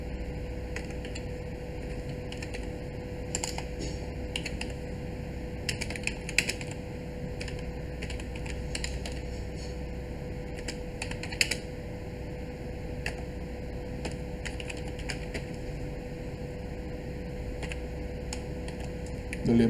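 Computer keyboard typing during an Ubuntu server install, steady faint key clicks with a few louder taps over a constant low electrical hum, no speech.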